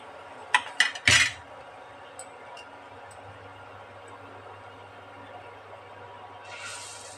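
Fried green chilli pakoras lifted out and set onto a metal plate: a few sharp metallic clinks and clatters close together near the start, then quiet kitchen background.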